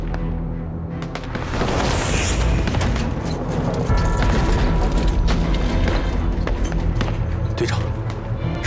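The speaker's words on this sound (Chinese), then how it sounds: "是大炮" Cannon fire in a wartime battle booms out in a heavy blast, followed by a dense run of crackling bangs and impacts, loud and close, with voices mixed in among the explosions.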